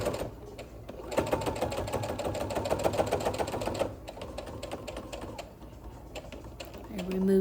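A sewing machine stitches binding onto a quilt, running steadily and fairly close, with a brief slowdown midway before picking up again. A low thump sounds near the end.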